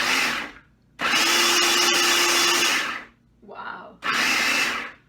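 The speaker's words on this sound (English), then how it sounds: "I love the food processor. It's so fast." A food processor chopping herbs and vegetables in loud, close bursts: one short run, a long whirring pulse, a brief softer one, then another, with a quick exclamation from a voice.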